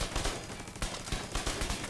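Rapid gunfire from The Division 2 hitting targets, a dense run of overlapping shots with sharper bursts at intervals, fairly close and loud with no talk.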